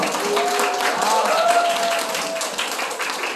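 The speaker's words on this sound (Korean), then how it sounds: "박수로 환영해 주세요." Audience applause welcoming a pastor at a church youth summer retreat service, a steady broadband clapping wash with voices and shouts mixed in over the crowd.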